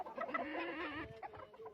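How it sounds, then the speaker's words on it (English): A chicken kept as an emotional support animal clucks in a short burst of throaty, pulsing calls, close and moderately quiet, with no speech over it. "That's an emotional support chicken."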